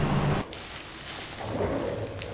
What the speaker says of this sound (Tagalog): habang hinihintay natin na tumila yung ulan, tingin ko naman titila na yung ulan